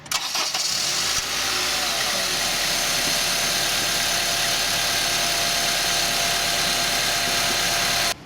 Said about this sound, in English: you need to start the car and let the engine work for a few minutes